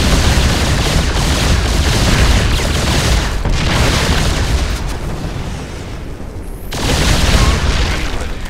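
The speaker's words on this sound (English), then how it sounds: "Commencing bombardment." Continuous heavy bombardment in StarCraft II, a dense rolling barrage of booming explosions that stays loud throughout, dipping briefly before surging again near the end.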